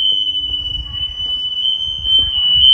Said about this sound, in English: it's the alarm going off in his crib